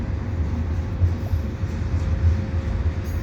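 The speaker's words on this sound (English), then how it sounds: "this is the CSX train heading westbound here at Dorval" A CSX freight train passes westbound at Dorval in Montreal on a Sunday afternoon, a continuous low rumble of rolling wagons, steady and fairly close, with no other sounds above it.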